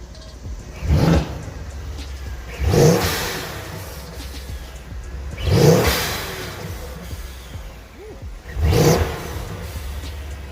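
A Mercedes C63s AMG fitted with a VRP intake revs four times from idle, each blip a short loud surge that falls back to a steady idle rumble between, heard up close with no talking.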